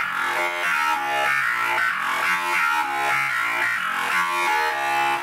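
Layered synth bass built with the Spire preset Monster 1, adding crunch and bright high-end layers, grinds in a dense, distorted rhythmic pattern of pulsing notes, loud and continuous without any voice.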